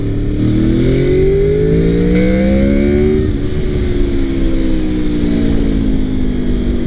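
A 2002 Honda VFR800 motorcycle engine revs hard and close, its rising howl shifting character partway through as the VTEC engages, then holding a steady, loud, buzzy drone.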